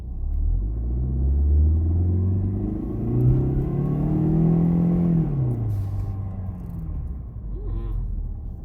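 A 2006 PT Cruiser engine with freshly changed spark plugs accelerates steadily, its rumbling drone climbing in pitch and then settling back, heard up close from inside the car with no talk over it.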